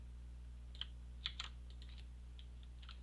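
Sparse keystrokes tap on a computer keyboard in a quiet room over a low steady hum, a few isolated clicks and short bursts spread across the moment.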